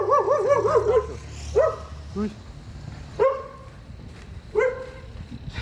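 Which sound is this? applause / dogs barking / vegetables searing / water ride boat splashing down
dogs barking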